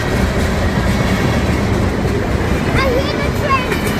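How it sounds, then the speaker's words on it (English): A passing train rumbles steadily and loudly nearby, dense low rolling noise with faint wheel squeals and clatter, while people talk over it. "hear the train the whole time."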